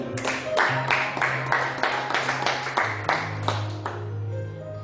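A church congregation claps together in a steady, rhythmic beat of about a dozen strong claps, with a sustained organ or keyboard tone beneath and some voices mixed in.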